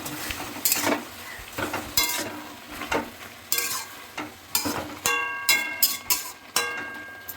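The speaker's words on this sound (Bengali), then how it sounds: "ঢাকনা খুলে আমি টমেটোটা একটু নাড়িয়ে দেবো" A spoon stirs tomatoes simmering in a pan for homemade tomato sauce, with a soft sizzle beneath a series of scraping strokes and metallic clinks against the pan.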